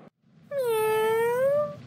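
A kitten gives a single clear, drawn-out meow, close and fairly loud, rising then sliding down, preceded by a short soft noise.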